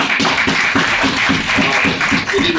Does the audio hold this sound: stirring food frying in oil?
no